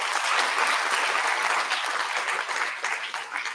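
A lecture-hall audience at a college induction program applauds, a dense sustained wash of many hands clapping at once, loud and steady before thinning slightly at the end.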